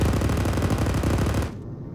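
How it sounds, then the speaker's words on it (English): Sustained heavy machine gun fire from a DShK in the military game Arma 3, a loud dense stream of rapid booming shots that stops abruptly, leaving a quieter background hum. "Taking fire from Dishka"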